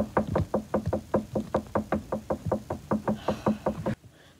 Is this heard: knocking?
yes